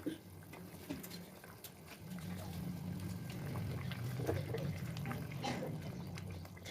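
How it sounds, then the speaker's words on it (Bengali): Pabda fish go into a boiling curry gravy in a pan, giving a soft, continuous bubbling and sizzling simmer with faint splashes, fairly quiet and close. "এবার আমি এই ঝোল ফুটান্ত অবস্থায় আমি পাবদা মাছগুলো দিয়ে দেবো।"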